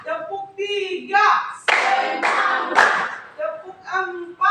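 A classroom of students clapping together in counted rhythmic bursts, the group claps alternating with a voice chanting the count.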